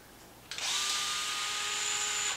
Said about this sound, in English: So we're going to unbolt these two screws.